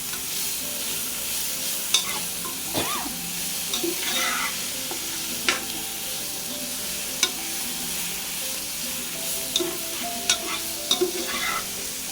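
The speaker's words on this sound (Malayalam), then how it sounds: "പിന്നെ 2 വലിയ തക്കാളി അരിഞ്ഞിട്ടത് അതും കൂടി ചേർത്ത് നല്ലോണം വഴറ്റിയെടുക്കണം." Chopped onions and tomatoes saute in a pan for Chennai-style biryani. A steady, close sizzle runs throughout, broken by occasional scrapes and clacks of a spoon stirring. No one speaks.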